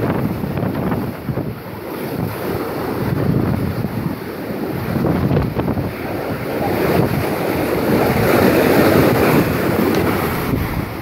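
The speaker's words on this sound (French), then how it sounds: "comment que les vagues splashent" Big ocean waves crashing on a beach at Guardalavaca, a loud continuous rumbling surf with heavy wind buffeting the microphone, swelling stronger toward the end.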